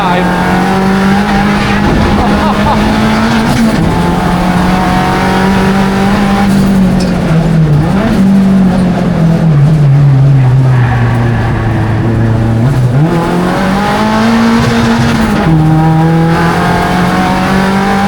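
A front-wheel-drive Ford factory racecar, one of two built, is driven hard on a track, its loud engine note holding steady then dipping and rising through gear changes and corners, with tire noise and a voice talking over it.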